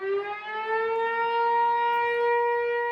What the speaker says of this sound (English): on the first Wednesday in every month, all the sirens in France go off.